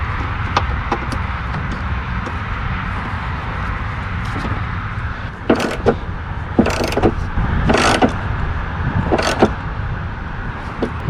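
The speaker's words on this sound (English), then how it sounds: "I'm just using a wrench" A small box-end wrench tightens the bolts on a GMC Envoy windshield wiper motor, making intermittent metallic clicks and short scraping bursts, clustered in the second half, over a low background hum.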